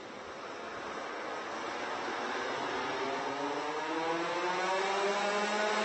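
Several Rotax kart engines drone together at a race start, their pitch climbing steadily as they rev, heard from a distance under a rushing, wind-like hiss.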